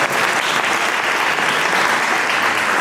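A church congregation applauds the Shalom choir with loud, dense, sustained clapping that fills the room evenly from start to finish, with no voices standing out.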